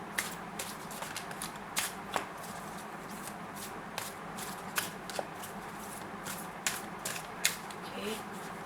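A tarot deck being shuffled up close produces a continuous soft riffling of cards broken by repeated crisp flicks and taps, fairly quiet throughout.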